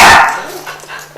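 A single loud, close dog bark bursts out at the start, then fades into near quiet during a barking-control training session.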